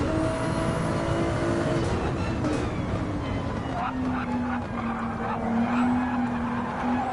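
Ford GT race car engine in a racing video game during WEC series qualifying, a steady loud drone with shifting pitch and light tire scrub as the throttle is balanced, no talking.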